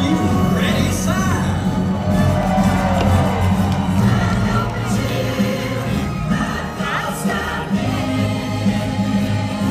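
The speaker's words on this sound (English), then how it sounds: "So stand up and cheer at the Stampede." Large crowd cheering, whooping and shouting at the Dolly Parton Stampede dinner show in Pigeon Forge, Tennessee, loud and continuous with music and an announcer's voice mixed in.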